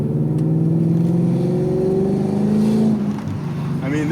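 An Infiniti Q45 accelerating hard, its engine note climbing steadily in pitch for about three seconds before easing off, loud and close.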